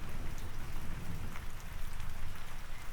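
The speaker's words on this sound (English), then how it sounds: "the cold drops of rain against the window, coming faster now." Steady rain patters against a window glass, a dense close hiss of drops with a low rumble of thunder underneath.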